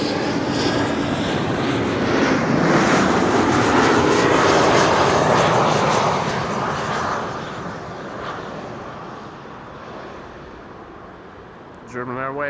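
A German Airways jet airliner in a DTM touring-car special livery roars loudly at an airport, a broad engine rumble that swells then slowly fades, with a brief voice at the very end.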